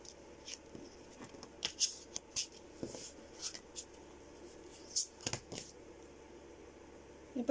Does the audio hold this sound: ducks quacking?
no